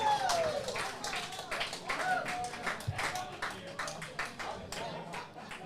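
Crowd applause at a lawn bowls match greets a great shot, a dense run of clapping that starts strong, lingers for several seconds and slowly thins, with a commentator's voice faintly underneath.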